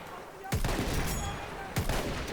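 An MG18 automatic weapon fires in the shooter game Battlefield 1 in two sharp, loud bursts about a second apart, each followed by a ringing, noisy tail.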